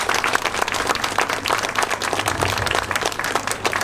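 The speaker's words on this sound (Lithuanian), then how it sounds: "Plojimai." A crowd applauds at a village museum festival, dense continuous clapping that holds steady and fairly loud throughout, with no talking over it.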